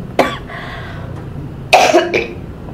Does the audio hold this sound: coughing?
yes